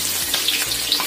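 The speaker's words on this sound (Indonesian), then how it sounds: "Kemudian kita goreng cabai, bawang merah dan juga bawang putihnya." Chili, shallots and garlic fry in a pan with a bright, constant oily sizzle and crackle, close and fairly loud, with no talk over it.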